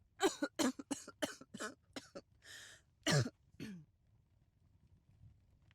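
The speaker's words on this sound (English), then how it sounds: "She was going to start coughing." Norah, a woman in the game Call of the Sea, coughs in a fit of several sharp, close coughs in quick succession with a brief raspy breath midway, then falls quiet.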